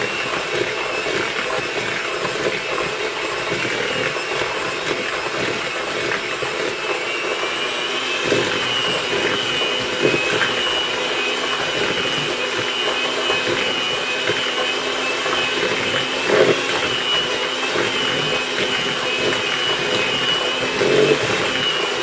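Electric hand mixer whirring steadily at a raised speed as it beats pound cake batter in a bigger bowl, a continuous close motor drone with no talking.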